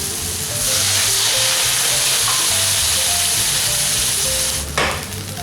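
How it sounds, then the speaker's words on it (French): Apples flambéed with calvados sizzle and fry loudly in a pan, giving a steady crackling hiss throughout, with a brief stirring or scraping burst near the end and no talking. "on va les flamber directement avec"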